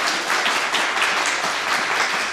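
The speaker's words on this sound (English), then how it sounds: "Can I get a quick round of applause for our" Audience applause for the judges at a high school poetry recitation competition, even, continuous clapping from a moderate-sized crowd at steady volume throughout, with no talk over it.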